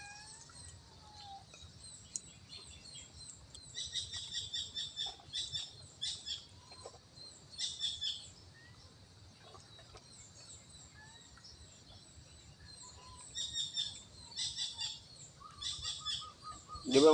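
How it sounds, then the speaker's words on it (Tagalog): Birds chirp and tweet in the countryside of a rural farm, high thin calls coming in clustered bursts, fairly faint and distant against a quiet outdoor background. "Marami pa kasing ibon dito."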